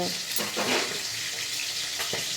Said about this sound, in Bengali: এই মাছেরও তেল ছিটকাচ্ছে